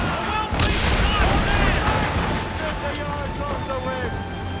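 Ship cannons fire in an Assassin's Creed Rogue naval battle, booming over wind and sea noise while voices shout and talk across the noise.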